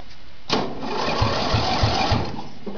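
Agway 2125 lawn mower's small engine cranking and catching with choke and a little throttle, a rough sputtering run with rhythmic knocks, heard close in an open setting.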